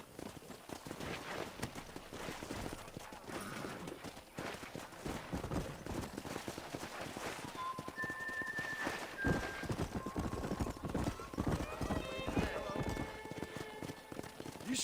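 Wild horses in Red Dead Redemption run in a pack, with steady clip-clop hoofbeats that keep going the whole way through and a few neighs and whinnies rising over the hooves. A light voice murmurs now and then under the thudding gallop.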